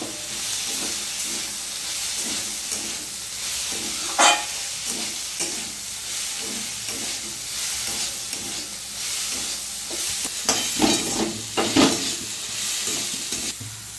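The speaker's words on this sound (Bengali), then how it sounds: "ভেজে রাখা বাদামগুলো দিয়ে দেবো, ভেজে রাখা শুকনো লঙ্কাগুলো দিয়ে দেবো। ভালো করে নাড়িয়ে নেব।" Red amaranth greens with potato, fried peanuts and dried red chillies are stirred in a hot pan, a continuous sizzling hiss punctuated by repeated scraping strokes of the spatula, close up and without speech.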